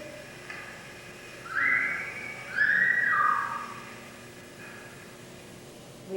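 Two short whistled phrases from a person, gliding tones with a rising and falling slur, moderately close against a faint hiss of background noise.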